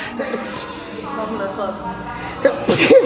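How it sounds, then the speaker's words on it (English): A person talks, then a sharp sneeze bursts out near the end, loud and close. "I'm about to sneeze."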